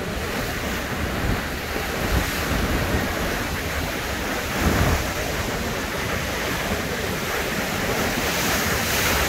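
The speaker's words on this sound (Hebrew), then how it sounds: "גם יפה לראות ים סוער." Stormy Mediterranean waves crash and surge at the Tel Aviv port in a steady, loud roar, with heavy wind buffeting the microphone throughout and no voices.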